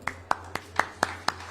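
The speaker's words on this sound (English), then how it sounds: "A big round of applause," Single pair of hands clapping in a slow, even rhythm, about seven sharp claps spaced roughly a quarter second apart, close and distinct, for economists at a capital markets panel.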